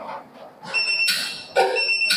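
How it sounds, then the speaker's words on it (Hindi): A wheel balancing machine in a tyre workshop gives short electronic beeps, a few steady tones repeating over a couple of seconds. They sound fairly loud and close against a busy background. "तो एक बीप जैसा साउंड आएगा।"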